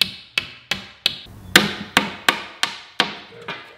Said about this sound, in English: so I don't use anything but this S-wing hammer